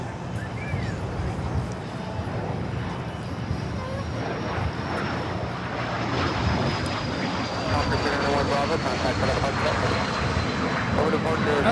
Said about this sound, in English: That's a Hawker 800 XP